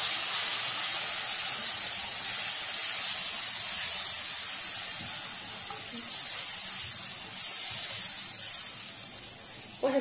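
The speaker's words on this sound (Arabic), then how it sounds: "وهنزل بشويه من المرقه بتاعتي" Meat or chicken broth hits a hot pan of sauce for Iskender kebab, giving a loud, continuous hissing sizzle that holds steady and slowly eases, with no talking.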